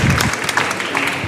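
A brief burst of audience clapping, dense and fairly close, lasting just over a second.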